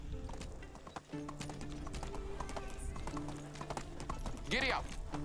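Horse hooves clip-clop at a steady gallop in the Medieval Dynasty video game, a continuous rhythmic patter under game music, with a brief whinny near the end and someone talking over it.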